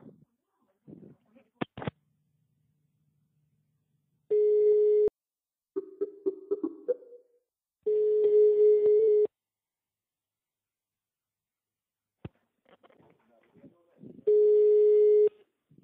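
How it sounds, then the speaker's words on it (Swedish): A telephone rings in repeated steady electronic bursts separated by gaps, with handling clicks between them and brief talking around the rings. "Lägg av med det ringaret nu."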